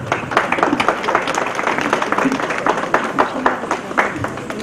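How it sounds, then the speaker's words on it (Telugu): An audience at a World Malaria Day event in Mahabubnagar claps steadily for several seconds, a dense, loud round of applause with voices mixed in. "అందరూ చప్పట్లు కొట్టారు."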